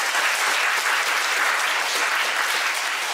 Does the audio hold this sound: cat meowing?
no